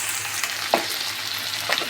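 Spice masala of turmeric, chilli and coriander powders with mustard and chilli paste frying in a pan, a steady soft sizzle broken by a couple of brief stirring scrapes, close and alone.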